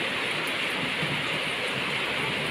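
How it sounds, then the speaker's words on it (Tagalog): Steady, loud rain falls without pause, a dense hiss that fills the whole stretch, with no distinct thunderclap standing out and no voices. "Kumikidlat, kumukulog, umuulan."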